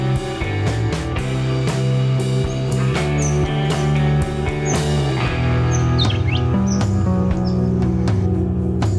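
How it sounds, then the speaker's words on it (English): Spinifex pigeons and peaceful doves call in a short series of chirps, loud throughout and layered over steady, dense background music. "The magnificent Spinifex pigeon and the following peaceful dove have thankfully not allowed their stupidity to take them the way of the dodo."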